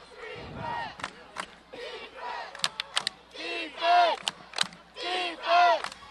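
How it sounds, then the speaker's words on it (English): Home crowd at a high school football game cheering and shouting in repeated swelling bursts, with sharp claps and whistles between the roars, fairly close and loud. "The home crowd trying to get their team together, trying to get their defense to make a big stop here"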